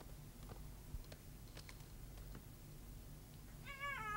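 A cat gives a single short meow near the end, faint and brief after a quiet stretch of low background noise and light ticking.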